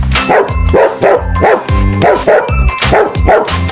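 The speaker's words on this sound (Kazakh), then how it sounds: "Бұл ит." A dog barks repeatedly and loudly nearby, a steady run of sharp woofs with brief gaps between them.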